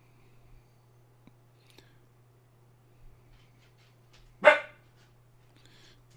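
A single short dog bark sounds once, moderately loud against a quiet room with a steady low electrical hum, and no one talks.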